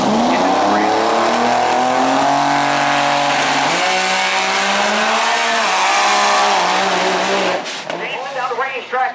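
A drag racing car thunders down the track at Maryland International Raceway during a drag racing derby, its engine a loud, sustained roar that climbs steadily in pitch before cutting off sharply near the end.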